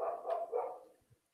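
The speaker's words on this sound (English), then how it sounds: "My dog is out there barking." A dog barks outside, a short burst of two or three yaps at moderate distance that fades out within about a second.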